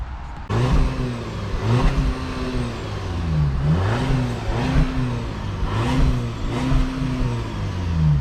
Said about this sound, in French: je vais vous montrer le bruit que ça fait en accélérant